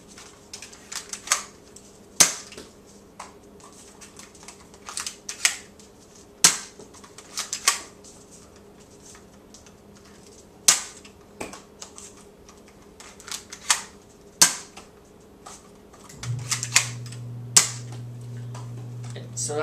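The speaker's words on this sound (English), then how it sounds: "But now I will just show you it firing." A Nerf N-Strike Elite Reflex IX-1 blaster fires a string of sharp plastic snaps, one roughly every second or two, fairly close and alone, with a low motor-like hum rising near the end.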